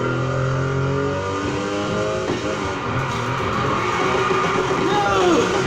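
Nissan Skyline 2000 GT-R '71 engine in Need for Speed Heat, revving hard while drifting, its pitch climbing and wavering with some tyre noise, loud and steady throughout.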